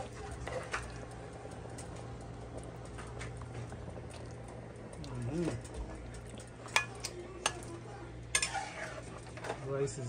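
A Guyanese catfish curry with fish eggs cooking in a pot, a low steady simmer with scattered clinks and scrapes of utensils against the pot and a voice talking.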